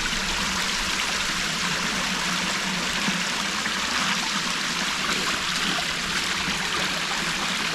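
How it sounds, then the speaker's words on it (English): Stream water at a ford runs over a submerged running shoe in a steady, loud rushing wash that stays constant throughout, close up and with no talking. "just let the water run over the shoe"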